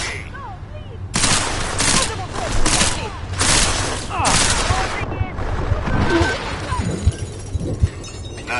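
Rapid gunfire from the video game Deus Ex: Mankind Divided, with loud bursts and repeated shots in clusters, some impacts and clatter, plus shouting voices in the mix.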